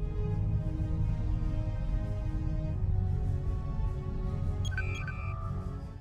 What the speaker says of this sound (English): Docking sequence initiated.